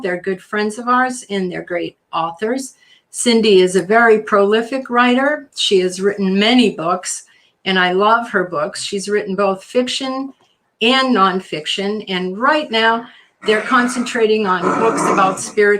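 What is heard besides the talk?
None of the usual background noises is heard.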